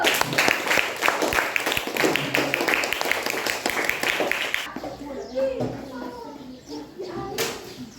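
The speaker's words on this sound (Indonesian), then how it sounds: "Kasih aplaus dulu." Audience applause at a school coaching presentation, a brief burst of clapping at the start that fades into murmuring voices and room chatter.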